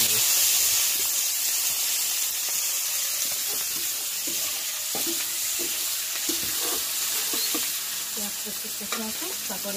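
Onions sizzling in hot oil with whole cumin and dried red chilli, a loud steady hiss of frying with occasional stirring scrapes, close up, and faint voices underneath.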